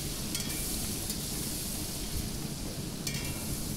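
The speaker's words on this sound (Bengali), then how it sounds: "আমি বেশ খানিকটা তেলের মধ্যে পেঁয়াজ দিয়ে দিয়েছি" Onions fry in a generous amount of oil, giving a dense, continuous sizzle with an even hiss throughout and no voices.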